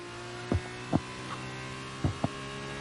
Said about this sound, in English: That's it, just leave it revving like mad.